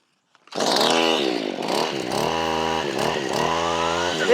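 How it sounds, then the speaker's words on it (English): A 20-year-old two-stroke weed eater string trimmer fitted with a Forester brush cutter blade starts after a pull and runs loud and close, revving unevenly and bogging before steadying. "Let's see if my 20-year-old weed eater will start."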